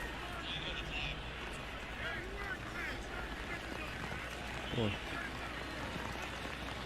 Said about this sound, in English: Y'all can hear the rain.